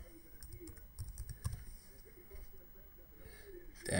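Keys on a computer keyboard are tapped in short irregular bursts while a password is entered, quiet and close, with a louder noise breaking in at the very end.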